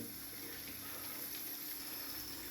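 Dark cooking water strained off boiled eggplants for a Turkish dried-eggplant dish, pouring in a steady close splashing stream with no pauses and no talk.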